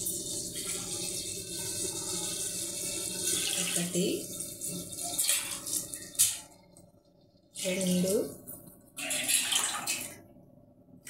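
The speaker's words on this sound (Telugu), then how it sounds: "ఇందాక వేసాను కదా 6 గ్లాసు, అందుకు ఇప్పుడు అయినాక 5 గ్లాసులు నీళ్ళు పోసాను" Water is poured from glasses into a biryani cooking pot, one glassful after another, each a close splashing pour with short gaps between. A voice counts along between the pours.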